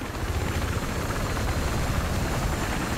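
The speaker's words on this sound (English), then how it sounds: "Right below my chopper right now." A helicopter in Battlefield 3 gives a loud, continuous rotor roar and whine that holds steady for the whole span with no voices over it.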